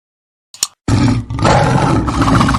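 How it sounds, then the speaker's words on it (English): A cartoon-style lion gives one short snort, then a loud, close, sustained roar that rumbles on to the end. "Lion."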